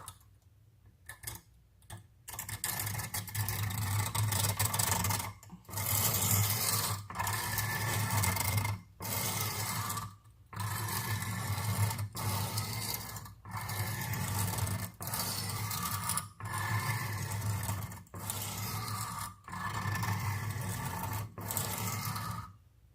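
A blade is drawn in repeated even strokes across new, still-coarse sharpening stones from a freshly unboxed sharpening system, giving a steady rhythmic scraping with short pauses between passes, close and fairly loud with no talking.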